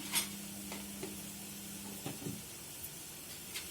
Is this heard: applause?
no